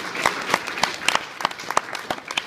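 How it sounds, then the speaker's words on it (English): A handful of people clapping briefly and unevenly, scattered claps rather than full applause, fairly close. "That's half a clap there."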